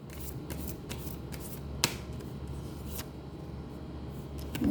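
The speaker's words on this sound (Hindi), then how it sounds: "थोड़ा सा इनको भी मैं शफल करना चाहूँगी।" Tarot cards shuffled by hand, a soft continuous riffling rustle with a few sharper snaps of cards, close and fairly quiet over a low hum, no voice.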